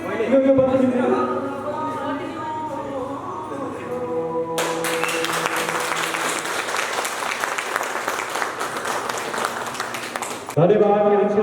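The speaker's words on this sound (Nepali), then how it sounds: "यहाँहरू सबै ताली बजाइदिनु मलाई" At the release programme for a Nepali music video, a voice speaks over faint music before a hall audience bursts into loud, sustained applause lasting about six seconds, then cuts off abruptly.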